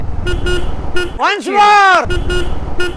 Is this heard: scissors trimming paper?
no